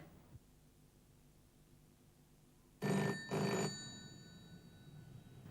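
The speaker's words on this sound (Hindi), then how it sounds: "मैं कई दिनों से देख रही हूँ कि रोज इसी समय डिनर पे ये ब्लैंक कॉल आता है।" A telephone rings with a blank call during dinner, two loud, close, bright bursts of ringing that cut through a quiet room, the second trailing off.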